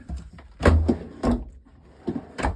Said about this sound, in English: and large drawers